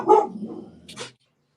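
A dog indoors gives a short, fairly close bark followed by a softer trailing yip, then falls silent.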